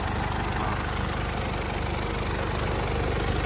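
A Mitsubishi Pajero 3.2 4M41 4x4 turbo diesel engine idles steadily and loudly up close, with an even rhythmic diesel clatter and no talk over it.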